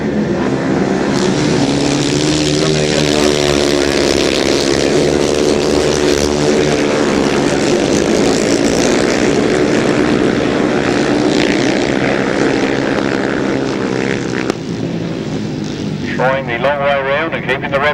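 Grasstrack racing motorcycles howl at high revs during a midsummer race meeting, a loud continuous engine roar that fills the whole stretch, with a commentator speaking over it.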